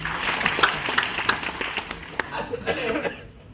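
Audience applause, a burst of clapping with some scattered laughter that thins out and fades to quiet within a few seconds.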